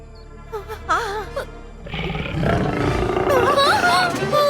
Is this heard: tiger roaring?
yes